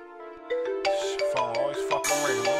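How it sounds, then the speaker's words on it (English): A mobile phone rings with a melodic ringtone, a tonal musical pattern that starts softly then grows fuller and busier, heard fairly close and clear with no talking over it. "Phone always fucking ringing."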